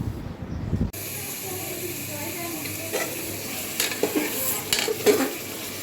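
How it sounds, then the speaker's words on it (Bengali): Desi chicken with turmeric, ginger, garlic, chili, coriander and cumin sautés in a pan with a steady close sizzle and occasional scraping stirs, after a brief rumbling sound at the start. "এখন আমি এখানে ভালো করে হলুদ আদা রসুন মরিচ ধনিয়া জিরা কাকি এগুলো সব দিয়ে এখন আমি এদিকে কষাচ্ছি"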